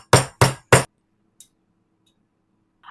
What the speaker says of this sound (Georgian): და მე მაქვს ჩაქუჩი.